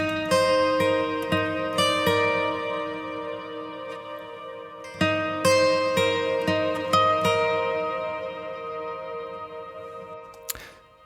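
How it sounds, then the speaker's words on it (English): Acoustic lead guitar played alone with heavy reverb and time-based effects, bright plucked notes ringing into a long, lush wash, phrases restarting around the middle and fading at the end. "So first out we have an acoustic lead, and with all the effects it sounds like this."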